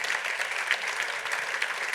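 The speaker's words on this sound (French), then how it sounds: "je vous propose qu'on applaudisse nos invités" A conference audience applauds the guests of a panel discussion, steady dense clapping from many hands filling the room throughout, with no one speaking over it.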